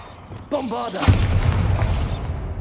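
Bombarda spell explosion in Hogwarts Legacy, a short voiced cast followed by a sudden heavy boom with a rumbling, crackling tail that fades after a couple of seconds.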